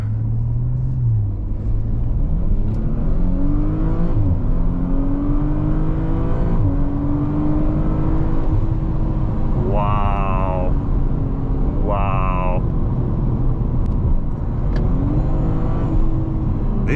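Deep, loud exhaust roar of a straight-piped Audi RS5 rising through hard revs and acceleration, a sustained rumble with climbing pitch sweeps, while a person exclaims in amazement over it.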